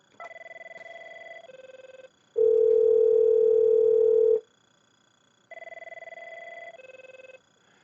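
A desk phone in the 1408/1416 series rings in a high-low pattern, two-tone bursts alternating with a long steady tone, each loud and clear, separated by short silences.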